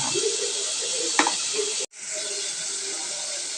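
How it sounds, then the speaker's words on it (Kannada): Tomato cooking in a pan gives a continuous bright hiss and sizzle, with a brief knock and a sudden momentary cutout partway through before the sizzling resumes. "ಟೊಮೆಟೊ ಬೇಯ್ತಾ ಉಂಟು"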